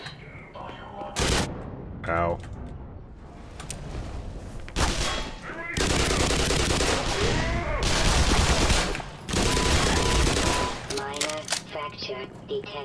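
Bursts of shotgun fire in the sci-fi shooter game Black Mesa: Xen, loud and close, fired in rapid clusters amid a chaotic combat soundscape, with a player voice briefly crying out in pain.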